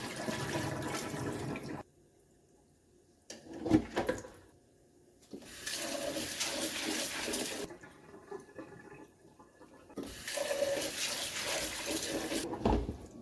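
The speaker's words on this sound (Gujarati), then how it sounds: "અને હવે એમાંથી પાણી નીકાળી લઈએ." Water pours and splashes out of a bowl of washed sago pearls in several bursts separated by short pauses, close and fairly loud.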